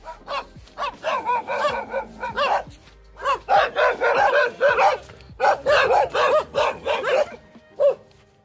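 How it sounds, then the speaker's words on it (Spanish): Several dogs bark repeatedly in quick bursts, close and loud, on a rural road at night near a cornfield, with short pauses between volleys. "Y vamos a presentar a los perros que muerden."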